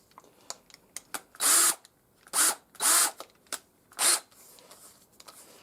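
A drill with a starter drive spins over a Stihl MS260 chainsaw engine in four short whirring bursts with the engine turning over, separated by light clicks and handling noises.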